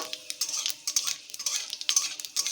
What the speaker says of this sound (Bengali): কড়াইতে তেল দিয়ে দিয়েছি এবারে পরিমাণটা খুবই কম দিয়েছি কারণ প্রথমে দিয়েছিলাম অনেকটা তেল এবারে দিয়ে দিলাম পাঁচ ফোড়ন